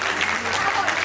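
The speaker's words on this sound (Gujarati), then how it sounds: "જોરદાર તાળીઓ થવી જોઈએ સૌથી પહેલા તો સમાજની દીકરીઓ માટે" A crowd at a community cultural programme and quiz closing ceremony applauds loudly and steadily in a brief burst, close and full.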